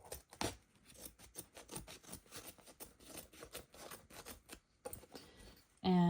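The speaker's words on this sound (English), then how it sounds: "I'm going to cut this out of the stabilizer" Scissors snip through embroidery stabilizer to cut a stitched coaster out of the hoop, giving a steady run of close, quiet crisp cuts and rustles, ending with a sudden louder clatter.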